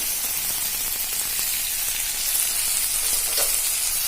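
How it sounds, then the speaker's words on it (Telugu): Eggplant pieces frying in hot oil in a pan, a steady close sizzle with crackling spits running throughout, no talking. "అలానే కొంచెం మగ్గనివ్వాలి వంకాయల్ని ఇలానే ఉంచి ఆయిల్లో"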